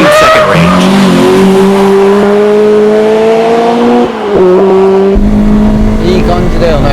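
A Japanese performance car, a Celica, drives hard through long, gradual corners on a race track. The engine note holds loud and steady, with tire squeal as it sweeps through a bend, and someone talks over it.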